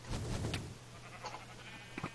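Sheep in the Minecraft video game bleat in a couple of short, close game-sound calls over a quiet background.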